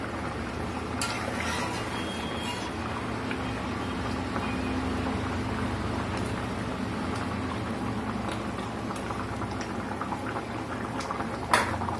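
A pot of rohu fish curry with eggplant and sour leaves bubbles steadily on the stove, giving a continuous soft simmering patter with occasional faint clicks and no voices.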